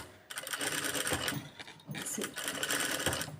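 A sewing machine stitches fabric to practise concentric circles. It gives a close, continuous mechanical whir with short pauses between runs of stitching, and a voice briefly speaks once.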